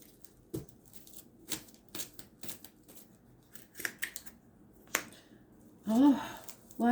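Tarot cards being shuffled and drawn, heard as a string of sharp, close card slaps and flicks spaced unevenly, with a voice starting up just before the end.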